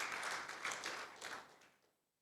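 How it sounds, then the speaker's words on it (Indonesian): A church congregation applauds in a short, fading burst of clapping that rises to a few peaks and dies away to silence after about two seconds. "Tepuk tangan bagi Tuhan Yesus"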